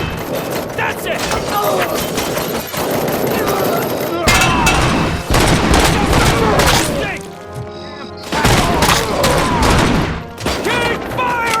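A loud, sustained firefight during a bank robbery in RoboCop: Rogue City, with rapid automatic bursts and sharp cracks hammering almost without pause. There are brief lulls, and voices call out amid the shooting.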